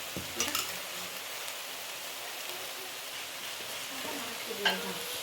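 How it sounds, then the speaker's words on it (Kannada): Bassaru, a Karnataka lentil curry, boils in a pot with a steady soft bubbling hiss, quiet and continuous, broken by a couple of faint clinks near the start and end. "ಸಾರು ಚೆನ್ನಾಗೆ ಕುದೀತಿದೆ ನೋಡಿ ಬಸ್ಸಾರು"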